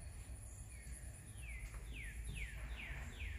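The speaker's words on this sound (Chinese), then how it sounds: "后面都是林子，能够听到这个 虫鸣鸟叫的。" Birds and insects call from woods behind a house in a quiet neighborhood: a series of about five descending chirps repeats at a steady pace over a faint continuous insect hum and low background rumble.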